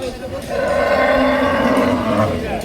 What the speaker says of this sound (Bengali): আমার সামনে কিন্তু অনেক গাভী গরু উঠেছে বাচ্চা সহ দুগ্ধ জাতীয় গাভী গরু উঠেছে